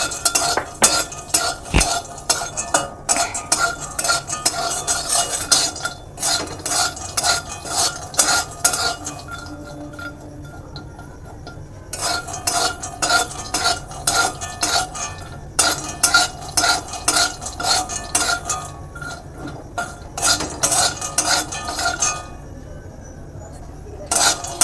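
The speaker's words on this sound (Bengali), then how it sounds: "চীনাবাদামটা আগে ভেজে নেব।" Peanuts being dry-fried in a kadai for Bengali vegetable chop, with a spatula scraping and clinking against the metal in bursts of rapid, rhythmic stirring, broken by short pauses.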